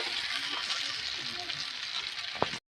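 Fried snails tossed in hot oil sizzle loudly and steadily close up as they are stirred, ending with a sharp clink of the spoon against the pan.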